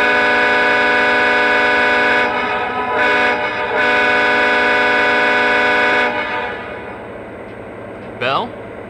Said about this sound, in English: Let's go ahead and listen to the horn.